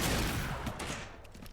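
Gunfire in Resident Evil Requiem as a shot brings an object down: a loud, dense burst of shooting right at the start, then a decaying rumble that trails off over about a second.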